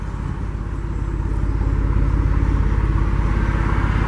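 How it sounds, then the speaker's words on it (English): A Jeep's engine runs with a deep, steady rumble, close and loud, its low throb growing a little stronger after the first second and holding there. "This Jeep sounds pretty good."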